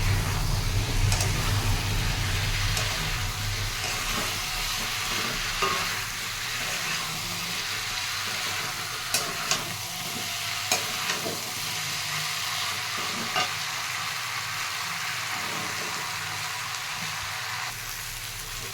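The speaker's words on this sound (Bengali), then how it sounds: "এখন এই এঁচোড়, আলু, চিংড়ি একসাথে দিয়ে দেবো। দিয়ে ভালো করে কষাবো।" Jackfruit, potato and prawns sautéed in a spice paste sizzle loudly at first, then settle into a softer hiss with scattered spatula clinks and scrapes, and no voices.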